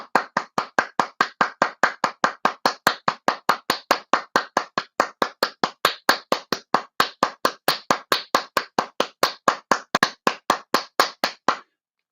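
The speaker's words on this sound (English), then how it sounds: "So round of applause" One person claps alone, close and crisp, in a long steady rhythm of roughly four claps per second for celebrating quiz winners at a virtual quiz night, then stops abruptly.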